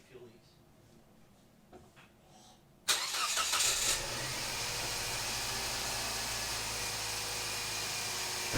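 A car engine cranks and catches abruptly, then settles into a steady, loud, close idle after a quiet stretch with faint talk and small handling noises beforehand.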